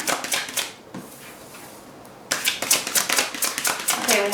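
Rapid papery flutters and snaps of tarot cards being shuffled, a quiet gap in the middle, then a longer run of crisp riffling, close and loud.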